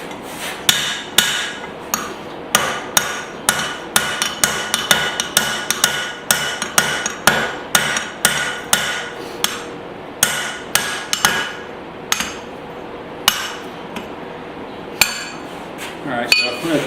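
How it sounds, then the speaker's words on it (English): A hammer strikes a hammer-hatchet forging on an anvil in a steady series of loud, ringing metallic blows. They come in rhythmic bursts with short pauses between heats. "I'm going to continue with this hammer, finish off the forging"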